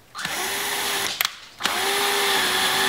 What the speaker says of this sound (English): then we're going to drill the holes